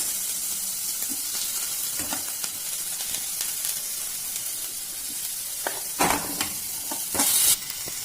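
Onions and tomatoes fry in a pan for pav bhaji-style noodles, with a constant bright sizzle and hiss broken by scraping spatula strokes and a few louder clatters near the end.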